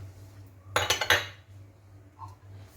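Boiled potato, spices, green chilies and garlic for aloo paratha are mixed in a bowl: a brief cluster of several sharp metal clinks of spoon against bowl, then near silence.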